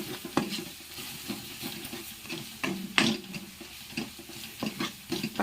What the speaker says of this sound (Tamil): மிளகாத்தூள் பச்சை வாடை போக நல்லா வதக்குங்க